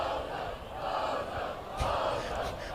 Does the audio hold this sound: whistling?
no